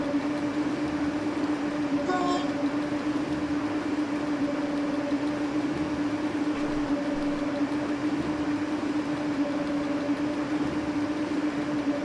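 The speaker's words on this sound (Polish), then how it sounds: "Jedzie tu jakiś pociąg." A coal-carrying freight train rolls along in the Open Rails train simulator game, a steady loud mechanical hum and drone with tonal whine that holds evenly for the full stretch, with no talking.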